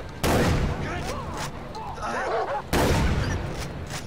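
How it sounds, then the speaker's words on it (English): Gunfire in the video game Far Cry 3, two sharp loud bursts of shots roughly two and a half seconds apart, with voices talking between them. "Who's shooting?"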